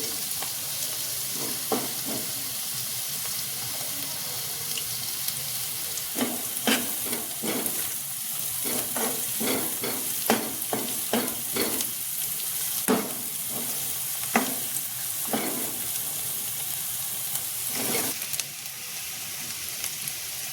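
Onion and green chilli frying in oil for an aloo paratha filling: a continuous close sizzle broken by a run of sharp spatula scrapes and taps against the pan, with no talking.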